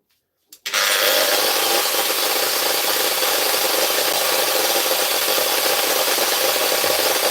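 An electric grinder switches on after a couple of faint clicks, then runs loud and steady with a harsh, broadband whine that holds without a break until the end.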